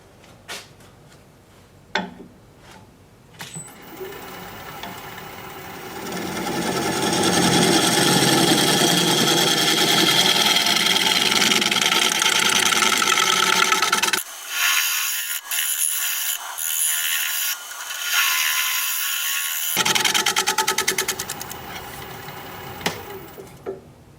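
A steady, loud rasping scrape of an odd-shaped piece of wood spinning on a lathe, with a running motor hum. It pauses briefly partway through, then resumes.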